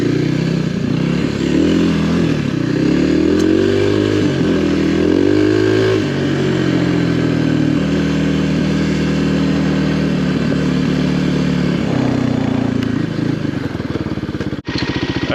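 A Kawasaki KLX 300R dirt bike, fitted with a 14/47 rear sprocket, rides along in first gear, its engine loud and close with a steady drone that rises and falls as the throttle changes, ending in a brief clunk.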